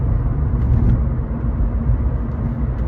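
A 2006–2009 Honda Civic with a rear suspension squeak problem on a test drive: steady low road and engine rumble from inside the car, fairly even throughout.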